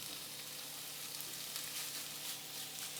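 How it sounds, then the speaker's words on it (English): Bacon sizzling in a pan over medium heat, a constant close hiss and crackle of frying fat with no voices. "we're going to take the bacon, and put it in a pan. We're going to start cooking it down."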